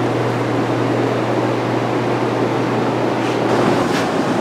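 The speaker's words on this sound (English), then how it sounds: "I'm gonna let that exhaust fan run for another probably half hour, 45 minutes." An exhaust fan runs steadily in a paint booth where a 1955 Buick Century's cowl and door jambs were just painted, giving a constant broadband whoosh with a low hum and a couple of faint clicks near the end.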